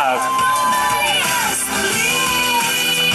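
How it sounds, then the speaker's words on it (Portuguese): A crowd cheers and shouts loudly and continuously at a live street tribute with a sound truck in São Paulo's east zone, with high voices whooping throughout. "uma salva de palmas!"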